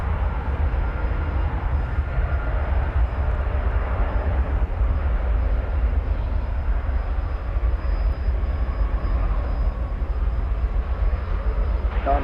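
An Envoy airliner passes at DFW Airport, heard as a steady, broad jet roar that holds at an even level for the whole stretch with no clear rise or fade.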